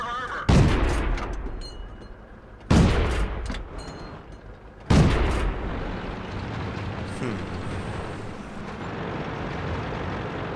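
Three heavy tank cannon shots boom in a video game battle on the Karelia map, spaced about two seconds apart, each followed by rumbling decay and lingering battle noise.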